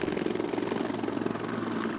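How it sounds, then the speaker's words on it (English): Helicopter rotors throb in a loud, steady pulsing chop as helicopters arrive to evacuate the wounded in Zangabad, heading for Kandahar airfield, with a continuous engine drone under the beat. "helicopters arrived to take the wounded to Kandahar airfield"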